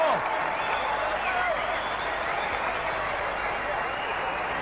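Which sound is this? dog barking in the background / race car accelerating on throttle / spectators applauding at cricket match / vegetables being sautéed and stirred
spectators applauding at cricket match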